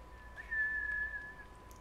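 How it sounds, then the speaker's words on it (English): A character in the video game Ghost of Tsushima whistles a single sustained, steady note lasting about a second, moderately loud over a quiet background with a faint steady tone beneath. "I wish I could whistle like that."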